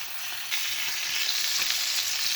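A ribeye steak sizzles loudly in a pan with fresh thyme and rosemary while it is basted, a dense, continuous frying crackle with a small surge partway through.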